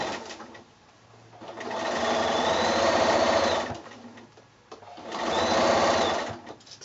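A sewing machine stitches a quarter-inch seam around the top of a quilted shoulder bag, running in two long, steady bursts separated by a short pause, loud and close with no talking.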